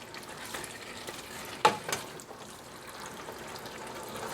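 Pinto beans being stirred into a pot of Texas goulash: a soft, faint, wet shuffling with one sharper scrape of the spoon against the pot partway through, with no voices.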